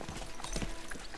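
Horse hooves clip-clop steadily across a road in the medieval game Kingdom Come Deliverance II, a quick, even rhythm of soft thuds laid over constant background ambience.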